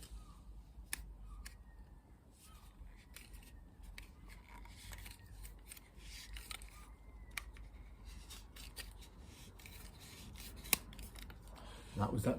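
Plastic basin waste pipe being trimmed by hand during solvent-weld plumbing, heard as a steady close scraping, rasping cut with a few sharp clicks and a louder burst near the end.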